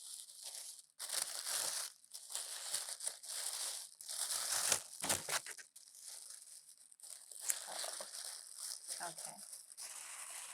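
Crinkly plastic bag packaging around a Michael Kors or Kate Spade purchase is unwrapped up close, giving bursts of crackling and rustling with short pauses, while someone talks quietly in between.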